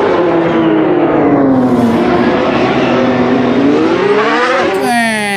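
A voice imitates the engine of a toy F1 race car as one loud, continuous droning whine that dips and climbs in pitch before ending with a sharp rise.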